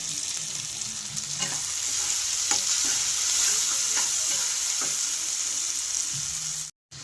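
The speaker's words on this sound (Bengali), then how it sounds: "এটাকে ভালো করে আমি আস্তে আস্তে করে কষাবো।" Spice masala with turmeric sautéing in oil for a jackfruit and prawn curry, a steady close sizzle with soft stirring scrapes, cutting off abruptly just before the end.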